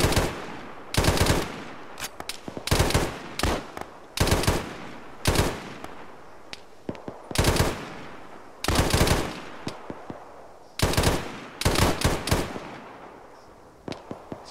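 Arma video-game firefight: repeated loud bursts of rifle and machine-gun fire in a steady rhythm, interspersed with sharp single shots and distant cracks over a continuous background rumble.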